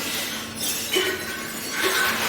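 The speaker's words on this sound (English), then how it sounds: "Now the broken glass just fall into the bag." Crushed broken glass tumbling into a bulk bag at a recycling plant, a dense steady rush of clinking and tinkling shards with faint tonal rings, close and continuous over machine noise.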